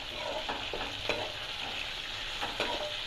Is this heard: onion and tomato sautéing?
yes